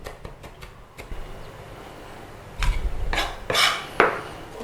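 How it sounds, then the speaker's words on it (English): A knife chops garlic on a cutting board, with a few quick taps early on and then heavier, irregular knocks and scrapes toward the end, close and with no voices. "And then let's give it a bit of a chopping through."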